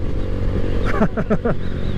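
A motorcycle fitted with a Leo Vince aftermarket exhaust and intake tune idles with a low, steady rumble, then gives a short run of sharp pops and burbles, close and fairly loud.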